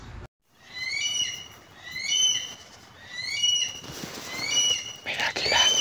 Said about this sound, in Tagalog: video ni Bagwis na humuhuni siya